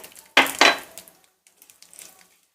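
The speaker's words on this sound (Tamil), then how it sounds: "இதில் கொஞ்சம் கடுகு உளுந்தம் பருப்பு பொரித்து எடுத்துக்கணும்." Mustard seeds and urad dal hitting hot oil in a pan give two loud sizzling bursts in quick succession, then fade to faint scattered crackles.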